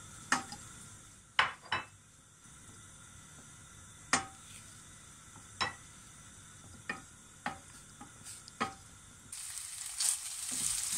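Spring onion whites with green and red peppers fry in a pan, a low sizzle under repeated sharp clinks and scrapes of a utensil against the pan, with a brighter burst of hissing near the end.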